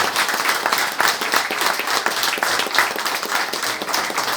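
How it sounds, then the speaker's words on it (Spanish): Audience at a neighborhood residents' gathering breaks into sustained applause, dense even clapping from a sizable crowd, continuous and fairly loud throughout with no voices standing out. "creo que se merecen una demostración de afecto con un aplauso"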